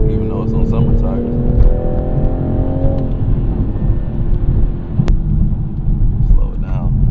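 A Toyota GR Supra engine drops through gears on a downshift, the loud rasping note stepping down in pitch with blips and rumble, close and continuous.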